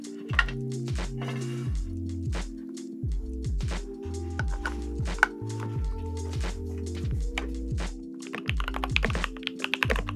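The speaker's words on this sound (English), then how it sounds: "The tool I use most for this task is the Mode Sonnet mechanical keyboard." Typing on a Mode Sonnet mechanical keyboard, close and clear, with steady runs of deep thocky keystrokes and occasional louder spacebar taps, quickening into brisk rattling clicks near the end.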